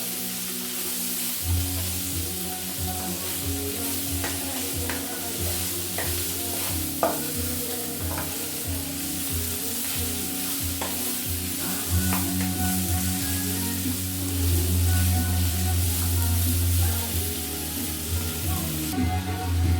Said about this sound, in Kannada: ಸೊ ಡೈರೆಕ್ಟ್ಲಿ ನಾನಿಲ್ಲಿ ಫ್ರೈ ಮಾಡ್ಕೊತಾ ಇದ್ದೀನಿ.